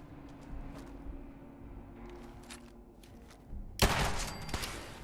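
Gunfire in the game Fallout 4: faint scattered clicks and taps at first, then a sudden loud close burst of shots followed by a dense crackling rattle.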